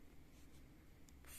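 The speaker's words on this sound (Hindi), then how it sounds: "तो मैं यहाँ पे लिखती हूँ" Faint pen or pencil strokes writing numbers in a workbook, quiet scratching over about a second and a half, with a couple of brighter scrapes near the end.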